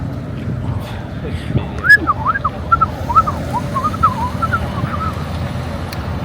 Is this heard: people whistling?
yes